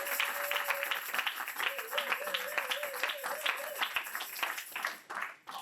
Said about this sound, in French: acclame très fort, acclame très fort.